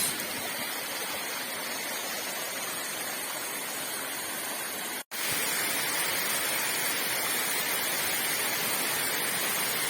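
Roar of a waterfall dropping more than 20 metres onto a road in the Chathamangalam hills of Kannur district, a loud, steady broadband rush with a brief dropout midway.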